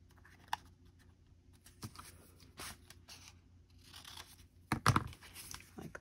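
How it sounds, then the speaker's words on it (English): Scissors snip the corners off a paper craft tag, giving a few sharp, close cuts spaced out with light paper crinkling and rustling between them. "I'm just gonna cut off my corners."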